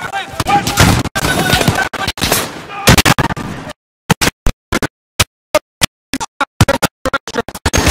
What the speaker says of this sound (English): Gunshots, of course.